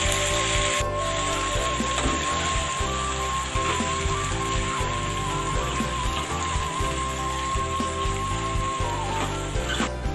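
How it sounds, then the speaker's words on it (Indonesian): A spoon steadily scrapes and stirs grilled-chicken spice paste in a Teflon pan on the stove, a continuous close rubbing and scraping over soft sizzling, with music playing throughout. "Lalu kita aduk lagi ya. Kita aduk sampai merata."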